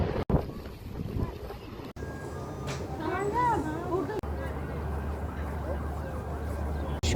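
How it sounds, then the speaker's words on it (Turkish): Aboard a passenger ferry on the Bosphorus in Istanbul, a low engine drone and wind rumble run steadily, with a horn-like warbling tone briefly rising midway. "Aşiyan vapuruna bindim ani bir karar değişikliğiyle"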